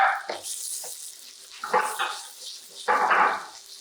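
Vegetables stir-fry in hot oil in a wok after the garlic, cooked as a Chinese vegetable dish: a steady close sizzle with three louder surges, each lasting about a second.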